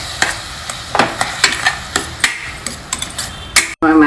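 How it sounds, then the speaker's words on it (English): Chopped dried tomatoes cooking in a pan, with a spoon scraping and stirring in a quick rhythm of distinct strokes over a light sizzle, close up, ending with a short clatter. "Now I am adding the finely chopped dried tomatoes and again cook everything well together."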